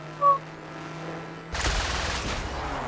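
Four miniguns and four rockets on a fast scout-tank-chassis vehicle in Trailmakers open up in a dense, continuous burst of rapid gunfire that starts abruptly midway and carries on loud to the end, after a quieter engine hum.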